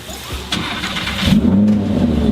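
A car engine cranks and catches, then revs up loudly, a short close burst of starting and rising engine roar with no talking.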